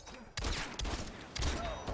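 Rapid gunfire bursts from a fighting video game, loud and close, arriving in three sharp volleys with brief gaps between them, under faint commentary.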